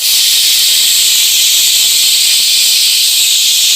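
An SKB six-litre pressure cooker whistle releases steam on an electric stove in a continuous loud, high, hissing rush that stays steady and close throughout, with no voices over it.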